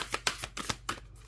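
Tarot cards are shuffled by hand, some thick cardstock and some thinner and more flexible, in several quick riffling bursts close to the microphone.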